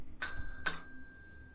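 A small bell rings twice in quick succession during a paranormal investigation in a reputedly haunted house, two bright metallic strikes with a lingering ring in a quiet room.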